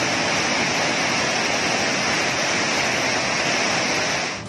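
Water gushes from the Basavasagar dam at Narayanpura, a loud, steady broadband roar of released water that stays constant throughout before easing slightly at the end.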